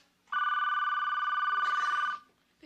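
A telephone bell rings once in a steady, loud, close burst of about two seconds, with quiet before and after.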